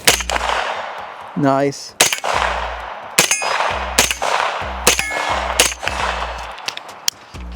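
Gunfire from a blowback AR-9 rifle fitted with a Radical 3-prong muzzle device: loud, sharp single shots at an uneven pace, about eight of them, each with a ringing clang and a low thump, with a brief spoken word in between.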